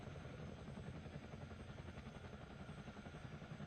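Chinook twin-rotor helicopter flying in a video game during a firefighting mission, steady rapid rotor thumping and whine, continuous and fairly faint with no talk.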